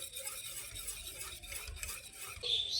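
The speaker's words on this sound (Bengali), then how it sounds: "বেকিং পাউডার আর বেকিং সোডা দিয়ে ভালো করে মিশ্রণটাকে আমি ভালো করে ফেটিয়ে নিয়েছি" A semolina batter with baking powder and baking soda is whisked in a bowl, giving a steady scraping, stirring rustle close by with light clinks and no talking.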